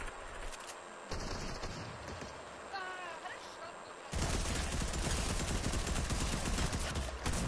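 Gunfire in a shooting video game on PS4, a dense continuous barrage of rapid shots that grows louder and heavier halfway through, with a faint voice briefly audible underneath.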